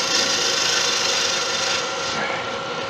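Antler being turned on a wood lathe for a slimline click pen, a tool cutting a shaving at about a 45-degree angle: a steady, close, continuous rasping scrape that holds evenly throughout.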